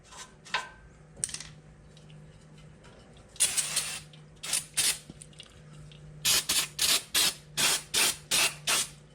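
Cleaner sprays onto the brake rotor of a 1996–2011 Honda Civic EX during a front brake pad job, coming as a run of short close hissing bursts, the later ones in a quick regular series, with small metallic clicks between.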